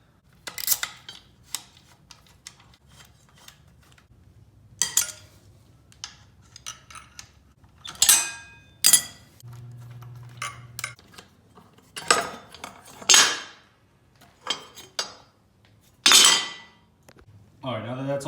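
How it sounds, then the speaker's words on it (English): Bolts removed from a transmission bracket during a shifter install, with metallic clinks and clanks of tools and parts in scattered bursts, close up, and quiet talk at times. "I'm gonna take out the bolts for the bracket"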